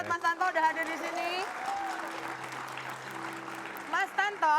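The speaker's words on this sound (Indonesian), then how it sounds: "Tepuk tangan dulu dong buat Mas Tanto udah hadir di sini." Studio audience applause on an Indonesian talk show for guest Tantowi Yahya (Mas Tanto): a steady wash of clapping that carries on under voices and music.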